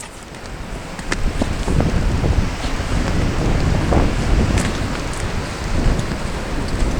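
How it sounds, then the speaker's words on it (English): Strong wind gusts across a river trail by cliffs at Great Falls Park, Virginia, roaring loudly and continuously against the microphone, with rushing water beneath and no speech. "As you can tell, we do have very high winds today."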